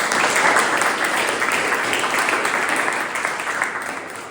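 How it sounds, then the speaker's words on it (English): Sustained round of applause from an audience at a Toastmasters club meeting, a dense, steady wash of many hands clapping that fills the whole stretch and tapers slightly near the end. "Give them a big round of applause"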